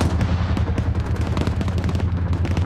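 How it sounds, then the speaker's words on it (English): A .50 cal machine gun in a video game fires steady, rapid rounds with a deep, booming thump, loud and continuous throughout. "it's got 50 cals firing onto it"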